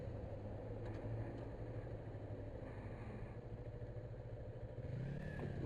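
A Yamaha R3 motorcycle runs with a steady low engine drone that stays constant and fairly close throughout, with occasional light clatter and no talking.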